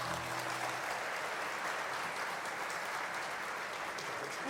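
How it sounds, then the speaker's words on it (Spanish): Steady, full applause from a crowd at a folk music gathering in Montevideo's Mercado Agrícola, rewarding a music duo from Canelones; dense clapping holds at an even level throughout with no words over it. "Fuerte aplauso para este dúo de Canelones."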